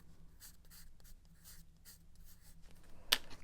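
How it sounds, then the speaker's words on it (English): A white gel pen writes on a kids' pirate party craft: quiet scratchy strokes come in short bursts, and a sharp tap lands near the end. "go over it with my white gel pen"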